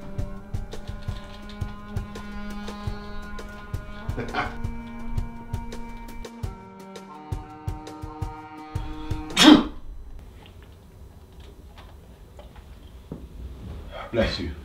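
A sneeze rings out once, sharp and loud, over a soft musical background with tones and plucked notes. People talk quietly before and after it.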